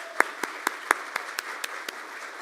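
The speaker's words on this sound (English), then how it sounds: "Let's have a round of applause for our guests." A small group at a Rotary Club meeting claps for guests, with sparse, distinct hand claps spaced about a quarter second apart, fairly close and moderate in level.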